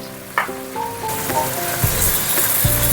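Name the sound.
onions sizzling in hot oil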